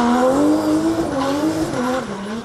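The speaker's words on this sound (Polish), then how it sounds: "Idealna maszyna do driftingu, zwana diabłem." A 900-horsepower rear-wheel-drive drift car skids hard, its engine screaming at high revs as the tires squeal in a loud, close, continuous slide.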